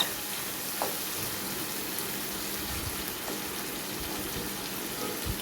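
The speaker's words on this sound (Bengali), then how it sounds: "ভালো করে নেড়ে চেড়ে আমি বারবার যা মগজ বিরানে পানিটা ছিল তার" Beef brain frying in a pan while being stirred, making a steady close sizzle with a few soft spoon scrapes and clicks and no talking.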